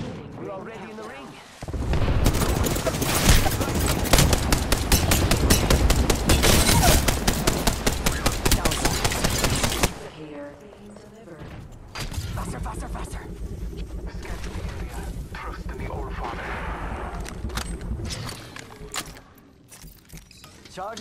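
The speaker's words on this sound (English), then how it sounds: "Shot fired" Rapid, dense gunfire from a firefight in the battle royale game Apex Legends, loud and sustained in two long bursts separated by a brief lull, with a voice talking over the shooting.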